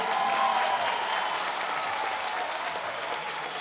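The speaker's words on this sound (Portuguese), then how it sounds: "a quem eu peço realmente uma salva de palmas ao prefeito Kio" Audience applause at a political reception in Alagoas, Brazil, steady and fairly loud for the full length, with a broad even clatter of many hands that eases slightly toward the end.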